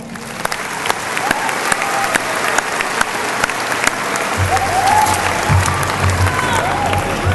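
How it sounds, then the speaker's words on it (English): High school graduation crowd applauding in a large venue, dense sustained clapping that swells slightly toward the end, with faint voices underneath. "Please give them a round of applause."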